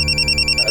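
A telephone rings close by with a bright, repeated electronic trill in rapid pulses, loud and alone for a brief moment.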